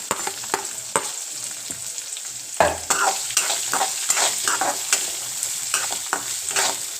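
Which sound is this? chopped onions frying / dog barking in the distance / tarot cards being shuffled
chopped onions frying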